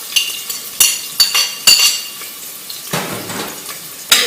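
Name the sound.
stirring garlic and onion in warm oil in a pan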